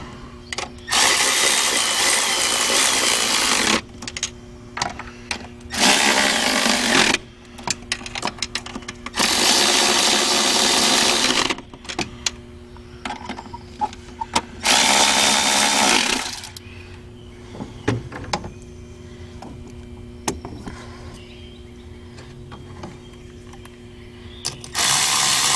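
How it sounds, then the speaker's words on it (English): A power ratchet buzzes in several loud, sustained bursts while working on a 2005 Procharged Trailblazer, each run a few seconds long, separated by quieter clanks and handling noise. "Absolutely love this power ratchet."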